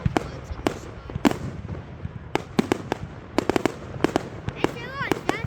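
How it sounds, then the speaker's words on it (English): Bonfire Night fireworks in Elgin go off as a rapid run of loud, sharp bangs and cracks, some near and some farther off, with people talking and exclaiming between the blasts. "Fireworks at the same time."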